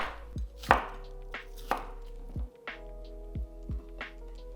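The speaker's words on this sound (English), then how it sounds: "Slice the green pepper into strips." A knife slicing green pepper into strips on a cutting board, about eight distinct chops at an uneven pace, close and clear over a low steady hum.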